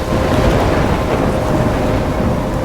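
A heavy thunderstorm in the video game Life is Strange, with a dense, steady roar of rain and rumbling thunder. It is loud and continuous, with no voices.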